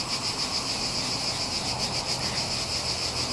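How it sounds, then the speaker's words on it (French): Cicadas sing in a steady, shrill, high buzzing drone that stays even and continuous, close by and unaccompanied. "Je prenais le temps d'écouter les cigales"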